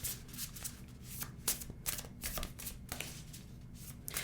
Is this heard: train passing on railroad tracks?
no